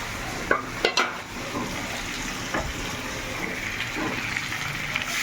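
Hot water poured into a pan of braised (kosha) chicken with potatoes: a steady broad hiss and sizzle with a few sharp clinks of a utensil early on, close and moderately loud, with no voices.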